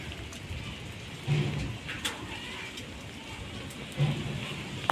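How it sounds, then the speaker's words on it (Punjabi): Heavy rain and hail pour down steadily with a dense patter during a storm in Ramgarh, with a few louder knocks and hits of hail striking surfaces. "ਗੜੇ ਡੱਗ ਰਹੇ ਆ ਜੀ ਦੇਖ ਸਕਦੇ ਆ ਤੁਸੀਂ ਮੀਂਹ ਕਿੰਨਾ ਜ਼ਿਆਦਾ"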